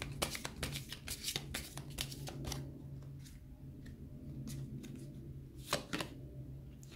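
A deck of fortune-telling cards is shuffled up close, with quick bursts of crisp riffling and slapping that come in clusters and then ease off into quieter handling.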